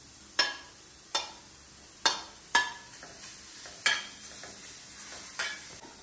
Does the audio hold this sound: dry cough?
no